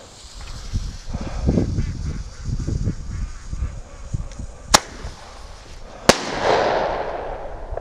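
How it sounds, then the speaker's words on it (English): A firework grenade set off outdoors in wind to scare away predators near a Muscovy duck pen: crackling and fizzing, then two sharp loud bangs a second apart, followed by a hissing burst, with duck calls and wind noise. "I'm going to set the grenade off here just to make sure the area is clear"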